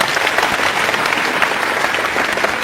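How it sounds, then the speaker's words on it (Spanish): Sustained applause from a church congregation, dense and steady clapping filling the whole stretch with no voices on top. "Aplausos para los dos hermanos."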